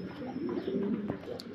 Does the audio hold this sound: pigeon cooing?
yes